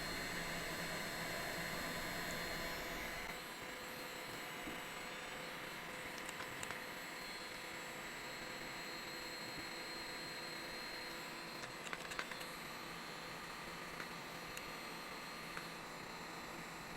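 An Ingco cordless heat gun blows a steady, fairly quiet stream of hot air with an even whooshing drone, broken now and then by faint clicks and small handling knocks.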